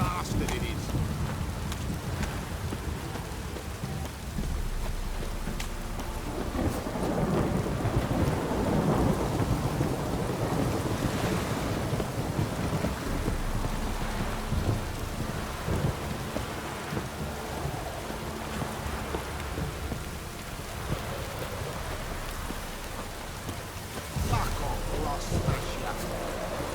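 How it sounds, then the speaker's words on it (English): Heavy downpour with thunder in the video game Witcher 3, a constant hiss of rain with deep rumbling rolls swelling and fading across the whole stretch, and a voice speaking over it at times. "This downpour's a bastard, it is."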